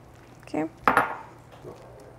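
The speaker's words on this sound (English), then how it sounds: "So we're going to add our masa and just mix it." Masa dough for corn tamales is mixed in a bowl, a few close scraping and clinking knocks of utensil against the bowl in quick bursts.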